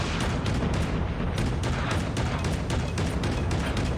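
Missiles and explosions in Call of Duty Mobile, a steady barrage of booming blasts and rumbling gunfire filling the mix throughout, dense and loud with no clear gaps.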